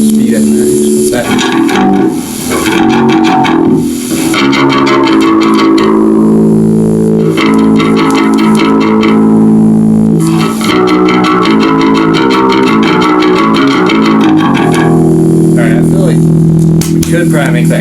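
Electric guitar run through a chorus effect with its speed turned to maximum, giving a warbling, wobbly sustained tone with strummed chords throughout, loud and close.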